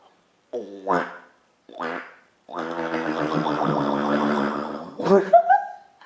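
Hands cupped together to imitate a duck's quack, producing several nasal honking bursts, one drawn out, ending in a few chuckles up close with no speech.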